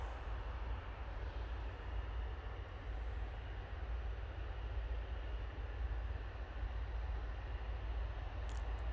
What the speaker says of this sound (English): Ryanair about to touch down